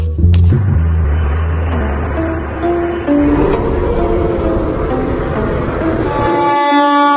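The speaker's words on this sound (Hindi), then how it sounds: "अरे ट्रेन तो हॉर्न दे रही है" A loud train horn blares over heavy rumbling rail noise at a railway platform, sustained for several seconds, with the horn tone shifting partway through.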